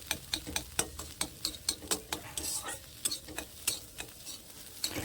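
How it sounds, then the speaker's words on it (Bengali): Eggs with a pinch of salt fry softly in a wok while a spatula chops and scrapes them into bits, giving quick, regular metallic taps over a faint sizzle. "এইভাবে খুন্তির সাহায্যে ডিমগুলোকে কুচো কুচো করতে হবে।"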